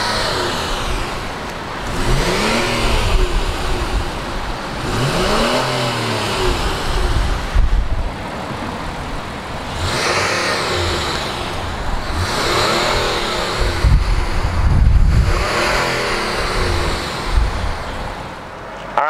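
A 2019 Honda Passport and Pilot SUV idling and revving nearby, loud, continuous engine noise with repeated rising and falling swells over the whole stretch, heard outdoors with no talking.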